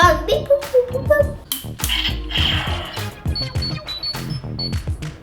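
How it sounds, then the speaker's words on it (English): A Power Rangers Super Megaforce toy morpher gives off electronic beeps and chimes, a quick run of short bright tones and clicks close to the microphone, with a voice and handling noises around it. "that's the sound that Zordon makes when he calls them"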